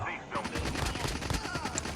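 Rapid bursts of gunfire crackle in quick succession, close and loud, with a voice shouting over the shots.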